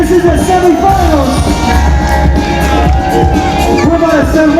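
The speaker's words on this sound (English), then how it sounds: "Come on, crowd, give them that energy." Crowd noise at a kids' breaking battle semifinal, a loud steady roar of cheering and whoops with music running underneath throughout.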